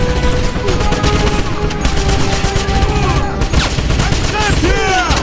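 Rapid bursts of gunfire from a Wolfenstein castle battle, dense and loud, with repeated shots layered over one another throughout and no clear pause.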